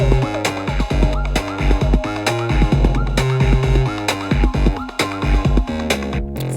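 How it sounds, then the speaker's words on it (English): A synth part from the Amplify Groovebox app bubbles over a driving electronic groove, with short melodic blips and gliding notes riding steady beats, loud and continuous with no talking. "I've added a synth part from that sounds a bit like this"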